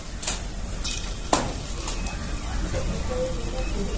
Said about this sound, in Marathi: आता तेल गरम झालं काय बघूया थोडंसं घालून बघूया याच्यामध्ये आपण पीठ